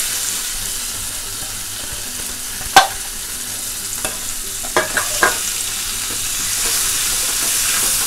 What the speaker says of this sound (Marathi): गॅस कमी करून अलगद अगदी हे जरासे परतून घ्यायचे